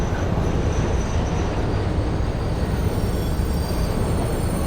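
A train in the video game Satisfactory, carrying only about one and a half carriages, gives a loud, steady, dense rumble that never lets up.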